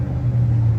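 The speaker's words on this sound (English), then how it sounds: "We got some loud cars" A loud car passing outside, a deep low engine rumble with a steady droning hum that swells slightly, heard close and alone.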